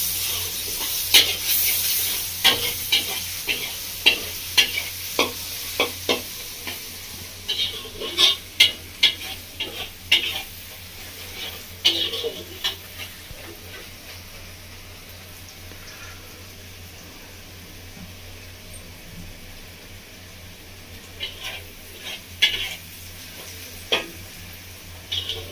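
Spices with Kashmiri chili being stir-fried in a pan for a village-style mushroom chow mein: soft continuous sizzle under frequent close ticks and scrapes of a spatula against the pan, irregular throughout with no talking.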